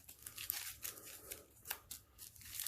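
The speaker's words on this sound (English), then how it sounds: "this is why I love sleeved cards. It really makes shuffling so much easier" Sleeved playing cards for the Atlantis: Island of the Gods board game are shuffled, giving quiet, close, crinkly riffling bursts in an uneven rhythm.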